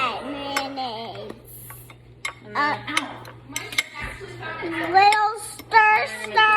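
Tartar sauce stirred in a bowl with a utensil, bright clinks and taps against the bowl between stretches of talk from an adult and a child.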